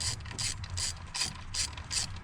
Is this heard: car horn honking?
no